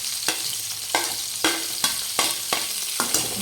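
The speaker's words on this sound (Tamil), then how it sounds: "நல்லா வதக்கிக்கலாம்" Small onions (shallots) sautéing in hot oil, a dense steady sizzle broken by about seven regular scraping strokes of a spoon against the pan, close and fairly loud with no talk.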